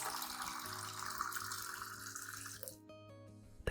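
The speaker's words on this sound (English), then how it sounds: "Add another 500 milliliters of clean water at room temperature to dilute the solution." Room-temperature clean water pours steadily into a container to dilute a homemade plant solution, a continuous splashing rush that stops abruptly near the end, leaving a few faint drips and clinks.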